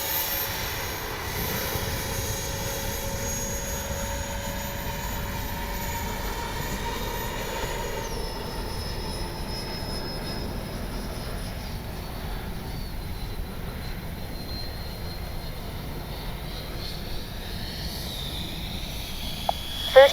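A Freewing 64mm JL-10/L-15 RC model jet airplane flying, its steady electric ducted-fan whine holding at a moderate distance with a slowly shifting pitch as it passes, and no talk over it.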